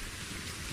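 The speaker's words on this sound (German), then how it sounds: "Jetzt regnet das schon wieder." Rain falls in the medieval survival game Reign of Kings, a brief, faint, even hiss of steady downpour with no voices over it.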